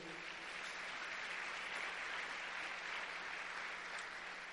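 A church congregation claps during a sermon, a steady, unbroken roar of many hands heard from across the room, holding an even level from start to finish.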